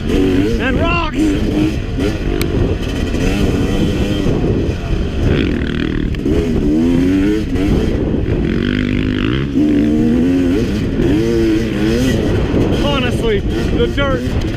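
Two dirt bikes, a Yamaha YZ250X two-stroke and a KTM 350 XC-F four-stroke, ride through muddy, rocky trail ground, their engines droning steadily close by with wind buffeting and a rider talking over the noise.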